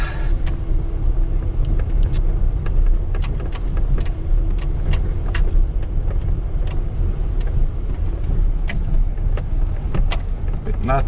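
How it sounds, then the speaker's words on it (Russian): A Lada Kalina car drives along a road, its engine and tyre rumble a steady, loud, low drone from inside the cabin, with faint rattles and clicks over the top. "Жалко, у Калины нету пониженной скорости. А тут уже надо ехать на пониженных."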